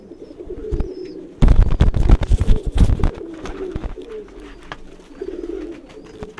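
Fancy golden pigeons kept by a hobbyist on a rooftop coo in repeated low, throaty phrases, close by, with a burst of wing flapping or scuffling partway through.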